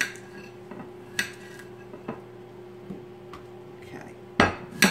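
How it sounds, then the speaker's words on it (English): Potatoes dropped into a roasting pan, giving a few sharp, scattered clinks and knocks with a louder clatter near the end, over a steady low hum in a kitchen. "I'm putting in the potatoes"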